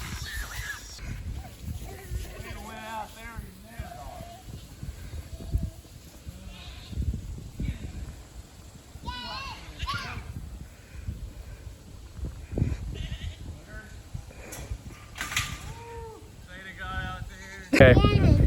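Goats being herded back into their pen bleat repeatedly from several directions, some close and some farther off, with people talking now and then between the cries.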